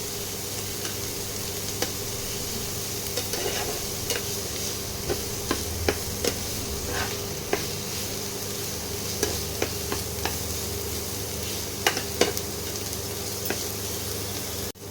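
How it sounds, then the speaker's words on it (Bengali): Onions fry in a pan with a constant, fairly loud sizzle and hiss, dotted with sharp little ticks and pops of a spatula throughout, and no voices. "পেঁয়াজটা না ভাজা হলে হবে না, একটু লাল লাল করে ভাজতে হবে।"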